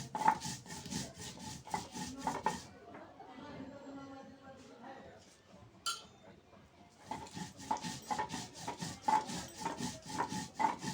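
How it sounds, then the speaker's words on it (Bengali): Dried chilies ground on a grinding stone, heard as a steady run of rhythmic rasping strokes that stops for a few seconds and then resumes at the same brisk pace. "এবার শুকনো ঝালগুলো বাটবো।"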